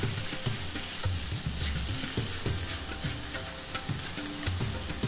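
Spices with chilli powder and salt fry in a cast iron pan, sizzling steadily and close with a dense crackle, while a utensil stirs and scrapes in irregular low knocks; no voices.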